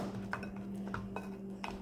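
Spoon clinking and scraping against a bowl while slime made with baking soda is stirred, several light irregular taps over a faint background hum.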